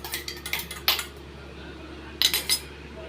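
A utensil scrapes and clinks against a pan as roasted sesame and peanut powder are mixed into tamarind poha, with a few sharp metallic knocks in two short bursts and quiet gaps between.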